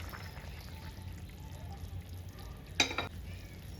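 A little water poured into a pan used for frying fish for a traditional broad bean and tyangra fish curry: a quiet background hum and faint stirring, then one short sharp splash and hiss near the end.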